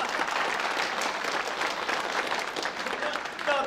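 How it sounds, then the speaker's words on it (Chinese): Applause from a gathering in a village setting, a dense continuous patter of clapping hands at moderate distance that holds steady for several seconds. "掌声，掌声。"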